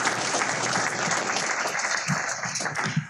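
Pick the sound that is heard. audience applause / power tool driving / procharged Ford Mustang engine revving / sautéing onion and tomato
audience applause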